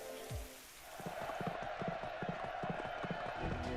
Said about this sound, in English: This rain just came out of nowhere